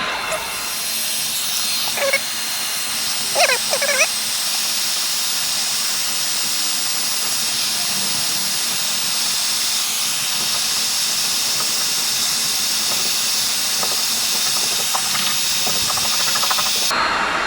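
A heat gun blows a steady, loud hiss while warming chrome decals on a Chevy Traverse, with a scraper working the lettering; a few brief scraping chirps rise early over the constant airflow.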